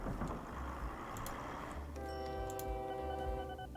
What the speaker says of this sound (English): Now the trains are starting